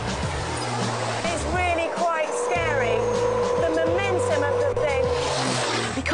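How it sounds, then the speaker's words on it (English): A heavy racing truck turbo diesel engine roars and drones loudly with shifting pitch, under a voice talking. "the turbo diesel engine is quite slow to react"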